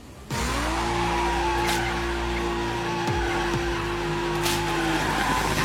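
A car doing a burnout, tires squealing in a long continuous screech over a roaring, revving engine, loud and close throughout with no talk.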